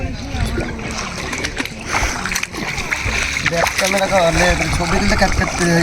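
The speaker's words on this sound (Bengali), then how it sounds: "আমি জলে নামছি আস্তে আস্তে" Water splashing and sloshing as a person wades slowly into the Ganges river, a continuous loud churn close by with people talking over it throughout.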